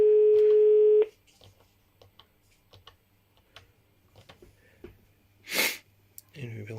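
A German 1TR6 ISDN phone, the Granat 1, on a private branch exchange: a steady tone for a second, then scattered soft clicks and ticks of dialing, a short tonal burst, then a brief voice.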